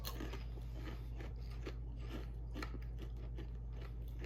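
Crunchy honey garlic walleye, caught ice fishing, chewed up close: a steady series of crisp bites and crunches over a low, constant hum, with no talking.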